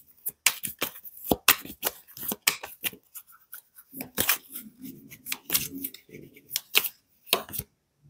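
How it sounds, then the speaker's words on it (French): Tarot cards handled and laid out on a table, a close series of sharp snaps and slides at irregular intervals, with a person talking between the card sounds. "je vais aller recouvrir quelques cartes"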